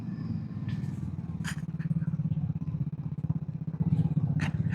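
A motorcycle picks its way across a rocky mountain trail on the road to Badrinath, engine chugging steadily at low revs with faint scrapes and clatter of stones beneath the tyres.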